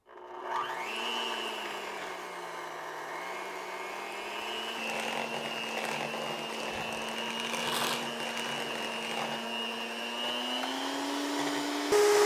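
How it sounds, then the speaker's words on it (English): A hand mixer whirs through keto waffle batter made with pork rinds. Its steady motor whine runs unbroken and close by, with its pitch shifting slightly as the beaters work the mix. "you're going to take your hand mixer and you are going to blend this"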